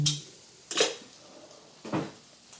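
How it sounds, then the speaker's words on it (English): Metal teaspoons clinking as they are lifted from a kitchen drawer, with three separate bright rattles spaced about a second apart and quiet between them. "I will take out my teaspoons so we can measure this as we cook"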